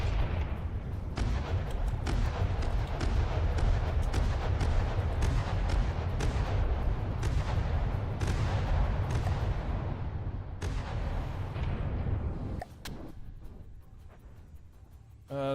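Dense, booming weapon fire rolls out in the naval combat game From the Depths as rapid repeated gun and artillery blasts over a low rumble, steady for about twelve seconds, then a sharp cut to fainter sounds.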